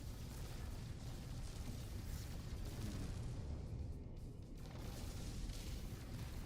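Sentinel cannon fire in the space game No Man's Sky, a continuous dense rumbling barrage of booms and bursts filling the clip at steady loudness with no pauses, heard without talk.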